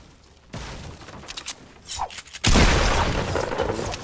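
Video game gunfire erupts in bursts, sparse mechanical clicks and thumps giving way to a loud, dense volley of shots that continues to the end.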